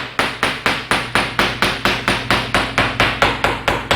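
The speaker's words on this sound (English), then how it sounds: "Another way to test is using a hammer and going across." A hammer taps a concrete slab again and again, checking for hollow spots beneath it: about sixteen sharp, loud, evenly spaced strikes, each with a short ring, close by and without talk.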